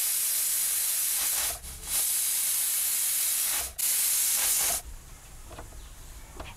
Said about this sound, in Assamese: ফ্লেমত এটা হুইসেল দি লওঁ